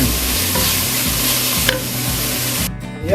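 Carrots sautéing in a pan for corn soup, a loud continuous sizzle with rhythmic stirring scrapes, alone, with a brief quieter moment near the end.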